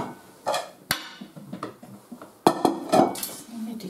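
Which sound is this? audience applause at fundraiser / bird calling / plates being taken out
plates being taken out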